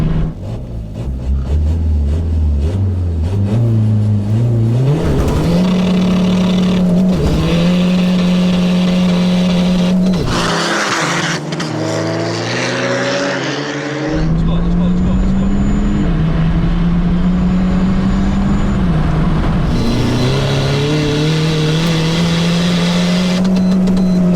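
Loud engines roar and rev as a tuned 500 bhp 1.9 TDI diesel and a 500 bhp BMW 330d drag race, pitch climbing in long sweeps, with people shouting and talking over the noise.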